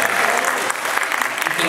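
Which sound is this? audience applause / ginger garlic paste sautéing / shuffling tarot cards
audience applause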